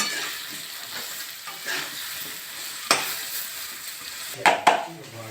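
Elephant foot yam being fried with salt in a pan, a soft continuous sizzle with stirring scrapes and a few sharp utensil clinks against the pan near the end, with no talking.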